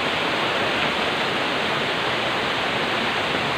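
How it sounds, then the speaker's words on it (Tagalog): Kulapniton Falls waterfall roaring as a loud, steady rush of broadband water noise, close and continuous with no talk. "Tingnan nyo, Ito yung Calapniton Falls."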